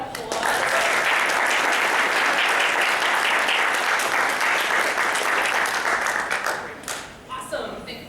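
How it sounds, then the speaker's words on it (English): A crowd at a charity presentation gives loud, sustained applause for about seven seconds that then tapers off into scattered claps as a voice begins to speak. "let's give Diane and Quinn a round of applause"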